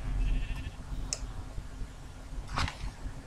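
Sheep bleat in a Minecraft pen, a few short bleats spaced over low ambient game sound.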